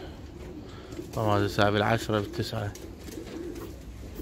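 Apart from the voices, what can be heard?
racing pigeons cooing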